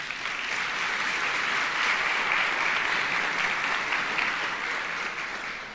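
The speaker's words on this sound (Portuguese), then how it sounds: "Uma salva de palmas para o Davi." An audience applauds for Davi at a motivational talk, a thick sustained burst of many hands clapping that swells in the middle and tapers slightly toward the end, with no voices over it.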